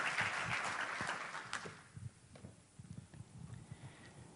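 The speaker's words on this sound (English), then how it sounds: "May I have a warm applause for Mrs." Warm audience applause at a startup conference opening, a burst of clapping that fades after about two seconds into scattered, sparse claps and quiet room noise.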